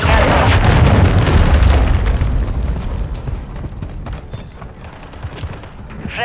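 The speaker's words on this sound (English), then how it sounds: "Friendly cruise missile approaching target." A cruise missile strike detonates in a first-person shooter match, a heavy booming explosion loud at the start with a long rumbling tail that fades over several seconds amid scattered in-game noises.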